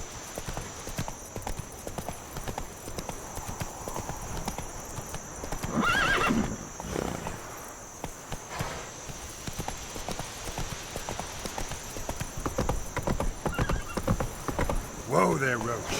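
Roach, a horse in The Witcher 3, gallops with fast rhythmic hoofbeats under a steady game soundscape, and around the middle and at the end it lets out a whinny or snort.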